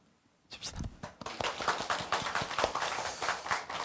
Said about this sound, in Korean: 칩시다.